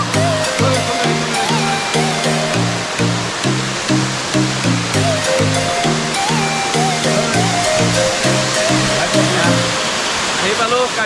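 Langherang waterfall in Karbi Anglong, a steady dense rushing roar that runs throughout beneath loud rhythmic background music.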